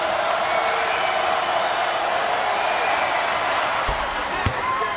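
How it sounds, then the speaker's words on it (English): Basketball arena crowd at a Pitt Panthers versus Clemson Tigers game at Littlejohn, rising to its feet with a broad, sustained roar of cheering and whooping that stays loud throughout, with a faint thud near the end. "Crowd comes to its feet at Little John again."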